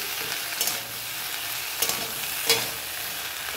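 Fish curry masala with tomato and ginger paste sizzles in a pan while a spatula stirs it, a steady frying hiss broken by a few sharp scrapes and knocks against the pan; no talking.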